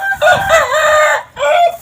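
A rooster with a cold and swollen face crows loudly and close by, one long strained call with a brief break before a shorter second phrase.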